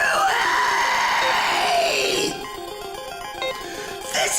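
Harsh screamed vocals from a submitted song, strained and raspy, loud and continuous for a couple of seconds before dropping into quieter tonal music with a brief shout near the end.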